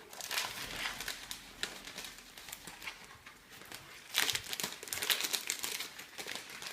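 Adhesive film being peeled off its backing to cover a textbook, a crinkly, crackling rustle of plastic sheet with louder tearing bursts toward the end, close and alone.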